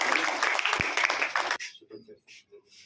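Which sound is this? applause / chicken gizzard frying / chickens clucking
applause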